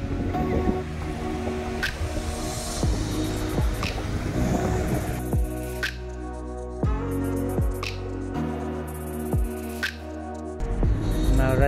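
Car driving along a road on Oahu, Hawaii, a steady broadband rumble of tires and engine with wind noise throughout, broken by several sharp cuts and shifts, with no talk.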